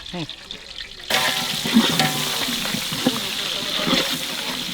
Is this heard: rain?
no